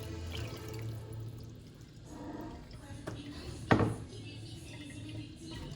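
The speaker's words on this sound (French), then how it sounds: "J'ajoute de l'eau." Water is poured into a pot of sorrel leaves, a short splashing burst standing out against a low, steady kitchen background.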